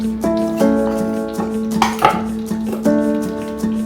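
A spoon scrapes and clinks against a pot while meat khichuri with garam masala paste is stirred, giving a handful of distinct metallic strokes with a ringing tone, close and clear with no talk.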